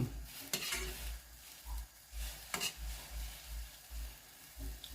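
Insects cook in a pan holding too much water, so they simmer with a wet bubbling hiss while a utensil stirs in rhythmic scraping strokes and gives a couple of sharper knocks.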